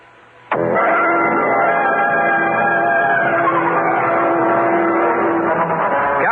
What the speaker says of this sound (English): Hendricks and I got into his car and we drove out to the City Island of the Island Yacht Club